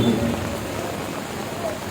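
Heavy rain pours down at an outdoor public meeting in Tamil Nadu, a loud, continuous broadband hiss of rain with no clear gaps.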